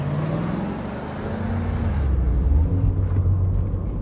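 A sedan pulling away, a loud close engine rumble with a rising, shifting motor tone as the car accelerates off, steady and continuous with no voices.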